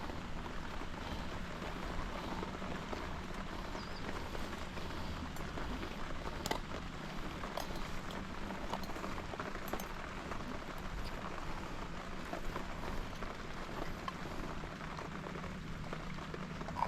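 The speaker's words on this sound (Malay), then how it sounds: "Sebelum hujan lebat." Quiet, even hiss of rain falling steadily on a riverbank at the Kuantan River during a fishing outing, a soft continuous wash with a few faint ticks and no voices.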